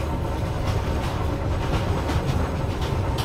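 Passenger train riding on rails, a steady close rumble with faint rhythmic clicks from the wheels, no voices.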